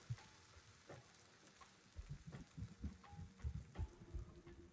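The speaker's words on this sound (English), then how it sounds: "I don't like the sizzling" Blistering acid sizzles over a dissolving body in Slay the Princess, a quiet crackling hiss with scattered pops and bubbling bursts that thicken into denser sizzling in the second half, with no voices.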